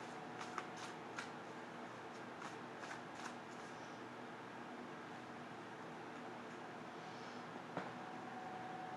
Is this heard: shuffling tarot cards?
yes